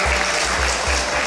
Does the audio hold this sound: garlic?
no